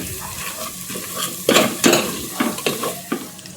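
Masala with Kashmiri red chilli powder stirred and roasted in oil, a low sizzle broken by several sharp, close scraping strokes of the spoon against the pan.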